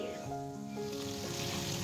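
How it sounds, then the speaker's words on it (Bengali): Oil sizzles steadily in a pan as fish fries, with a low hum and faint tonal background hum running underneath; the frying holds at a moderate, even level. "একদিকে আমি বাউল মাছটা ভাজতে শুরু করে দিয়েছি"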